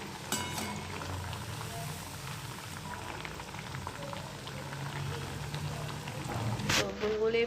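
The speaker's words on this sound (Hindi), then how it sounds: "तो देखिए हमने इस तरीके से सारी पूरियाँ बना ली हैं और अब हम इसे डीप फ्राई करेंगे।" Puris deep-frying in hot oil, a steady fizzing, bubbling crackle that rises slightly toward the end, with soft kitchen clatter and a sharp clink near the close.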